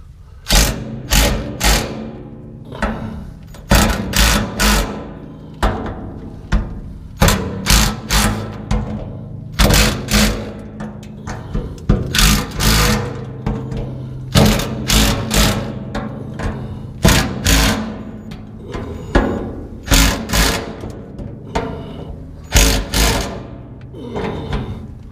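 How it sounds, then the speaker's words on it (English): Ryobi impact screwdriver tightening ten screws on a vehicle sending unit, heard as repeated loud bursts of rapid hammering clatter separated by short pauses, close up with no talking. "I'm just gonna tighten those screws down"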